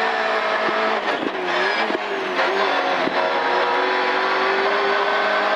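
Onboard sound from a rally car at full speed on stage ES12 of the 2016 Rallye Viviers Pays-Haut, with the engine droning and revving steadily and loud, and brief tyre and gear bursts cutting through.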